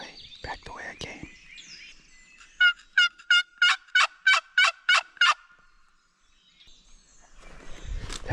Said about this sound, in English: the last gobble I heard was back that way, back the way I came